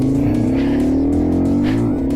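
A Yamasaki YM5 motorcycle pulls away and accelerates through the gears during CBT training, its engine note rising steadily and loud and close, then dropping briefly at a gear change before climbing again.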